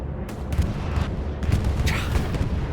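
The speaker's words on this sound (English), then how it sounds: "Whose bombing run is it?" Bombing-run explosions pound Utah Beach in a World War II shooter, several deep booms and crackling blasts thudding one after another at mid distance, with no talk over them.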